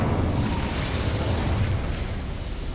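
An Incendio fire spell goes off in Hogwarts Legacy, a loud, dense roaring burst of flame that fills the whole moment at a steady level and eases slightly toward the end, with no talk over it.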